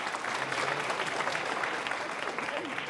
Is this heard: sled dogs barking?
no